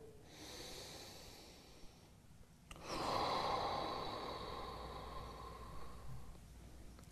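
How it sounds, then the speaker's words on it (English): Deep, slow breathing through a yoga hip stretch, a long drawn inhale then a steady, rushing exhale lasting several seconds, close and fairly quiet with no talk. "Take 3 breaths here."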